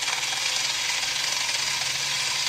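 Drill boring into the front sight of an Imbel MD6 pistol to fit a fiber optic insert, a steady harsh high whine with continuous buzzing grind, close and loud without pause or talking.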